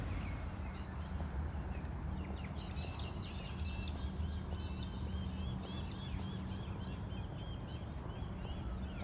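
Birds chirp and call outdoors along a morning walking path, with a dense scatter of short tweets in the middle and upper range over a constant background rumble, and no talking.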